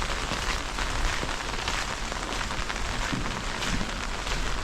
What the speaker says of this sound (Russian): У нас сегодня дождь немножко.